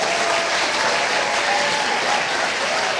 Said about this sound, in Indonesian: berikan tepuk tangan yang meriah untuk Fikram